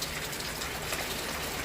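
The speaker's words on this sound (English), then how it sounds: "Y'all hear the rain." Steady rain falling outdoors on a cold, thundery day in Georgia, heard as a continuous broadband hiss of drops with no talking, even and close throughout.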